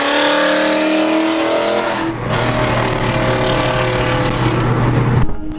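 A 750-horsepower 2015 Mustang with open exhaust cutouts revs loud and close, its deep exhaust roar rising and settling before cutting off abruptly.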